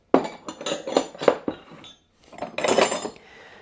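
Vintage Craftsman wrenches being handled, giving a series of sharp metallic clinks and clatters close by, several distinct hits followed by a brief jangle of metal on metal.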